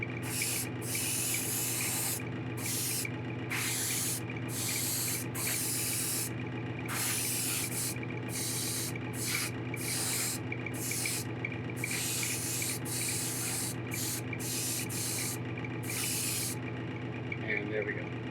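An airbrush or spray gun lays a heavy final wet gloss coat on a painted model, a continuous loud hiss that cuts in and out in short bursts with brief pauses between passes.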